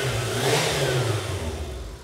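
Engine of a heavily modified Japanese tuner car revving under throttle, a loud, close, rough mid-pitched roar that rises and then eases off.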